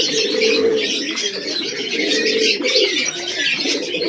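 Giribaz pigeons in a loft, mostly males, give soft continuous throaty coos that overlap in a steady warble, with a few light chirps mixed in and no talk.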